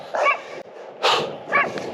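A dog barks three times in short bursts against a cold outdoor running route, the barks fairly close and loud with brief gaps between them.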